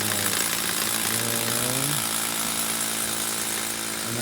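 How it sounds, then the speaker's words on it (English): Drill boring holes into concrete on a house-building site, a loud continuous grinding rattle with a shifting motor tone, close and steady throughout, no talking. "You see Eddie over there drilling holes in the concrete."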